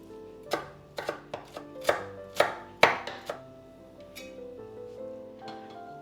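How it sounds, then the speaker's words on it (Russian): Knife finely chopping fresh dill on a cutting board, about a dozen sharp, separate chops in an uneven rhythm, close and fairly loud, with a few softer taps trailing off at the end. "И также мелко нарезаю укроп."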